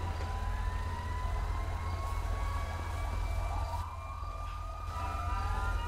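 In a GTA roleplay game, an ambulance siren wails as it approaches, its rising and falling tones faint and distant over a steady low rumble, with no talking.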